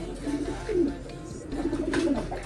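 Domestic pigeons coo softly near a breeding loft, two low rolling phrases close by in a quiet room.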